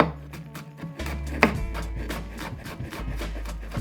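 A knife dices garlic on a cutting board for a Japanese taco rice dish, a steady run of quick, crisp chops tapping the board at close range, with no voices.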